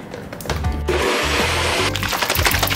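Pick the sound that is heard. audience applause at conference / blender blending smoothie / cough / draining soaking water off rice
blender blending smoothie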